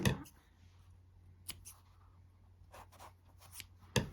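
Scissors snipping a yarn tail on a crocheted amigurumi toy: a few quiet, sharp cuts and faint rustles spaced through a few seconds, close and soft, without speech.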